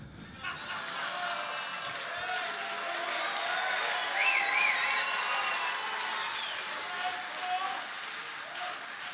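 Comedy roast audience in a Helsinki venue applauding loudly and steadily, a dense wash of clapping with cheers and whistles rising through the middle, voices mixed in throughout.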